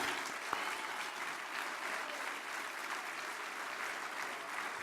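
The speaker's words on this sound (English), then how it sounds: "let's give them all a big round of applause" A dinner audience at the 2017 Ireland US Council annual dinner applauds in a steady, dense wash of clapping that fills the room at even loudness from start to finish.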